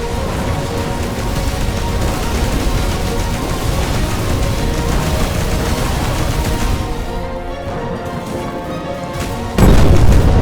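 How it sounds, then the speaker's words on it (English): A nuclear missile strikes a ship in the space video game Signal Fire, a long heavy booming roar that rumbles for several seconds, fades, then gives way to a sudden louder burst near the end. "Oh, direct nuclear missile."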